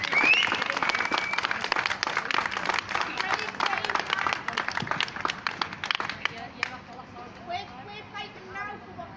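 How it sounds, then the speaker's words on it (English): A crowd at a gathering applauds three brave women with loud, busy clapping that thins out after several seconds, while voices mix in and continue talking beneath it. "Can we just give a applause, please?"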